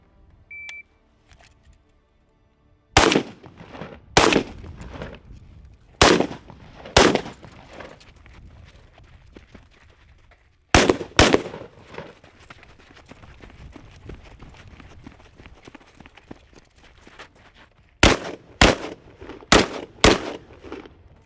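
Sharp, loud rifle shots from a Springfield Armory SOCOM 16, fired in spaced bursts on a shooting course after a timer beep, with running and movement between strings of shots.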